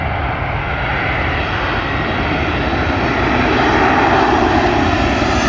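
A large American Airlines jet from Los Angeles roars in on approach to London Heathrow, a loud, broad engine rush that swells steadily, with no voices over it.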